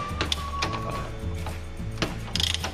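Quick ratchet clicking in short bursts, close and loud, as screws are loosened to take out a car radiator, with a faint mechanical whine in between.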